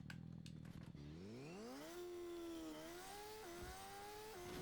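Motorcycle engine in the Fortnite video game, revving up with a rising pitch after a few sharp clicks, then holding a steady drone with small gear-like steps, loud and close with no talk.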